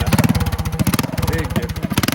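Close and loud, a Predator 212 mini bike engine revs in a quick burst, its choppy single-cylinder pulses tightening as the throttle opens.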